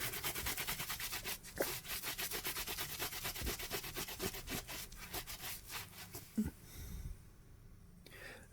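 Brisk back-and-forth scrubbing on the dirty mesh upper of white Nike Air Max Plus sneakers, a steady rhythmic rasp repeated across most of the stretch, close and moderately loud, easing off near the end.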